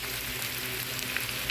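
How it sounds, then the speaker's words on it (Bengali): Onion and garlic sizzle steadily in hot oil in a frying pan, a loud, dense, continuous crackle with no pauses and no voices. "পেঁয়াজ রসুন তেলের মধ্যে ভালো করে ভেজে নিব"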